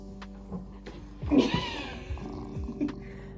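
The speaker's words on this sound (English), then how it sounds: "This is the cat." A cat meows and yowls several times in a drawn-out, wavering way, fairly close, with background hum and faint chatter, while the owner is travelling alone.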